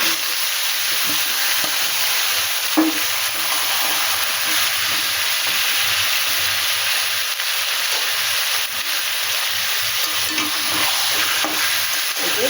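Chicken marinated with onion, ginger, garlic, turmeric and a little coriander powder sizzles loudly and steadily in a hot pan, a dense continuous frying hiss with occasional stirring scrapes, no voices.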